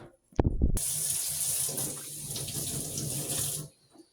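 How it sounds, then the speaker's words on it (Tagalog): Tap water runs into a sink for handwashing, beginning after a brief clatter of handling sounds, then flowing in a steady close splash for about three seconds before it is shut off. "hugas tayo ng kamay"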